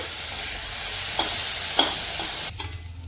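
Potatoes frying with chopped teasel gourd shoots hiss in a pan as they are stirred, a steady close sizzle broken by a couple of spatula scrapes before the frying noise suddenly drops away near the end.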